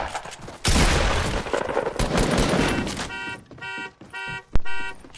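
Gunfire from a first-person shooter video game: a dense burst of rapid shots, then a few spaced, sharp reports and electronic tones, loud and close.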